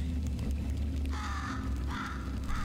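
A bird, apparently a crow or pigeon, calls a few times with harsh cawing notes over a steady low hum of game ambience in Portal 2.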